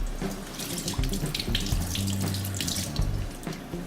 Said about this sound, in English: We can either peel it and then rinse them under water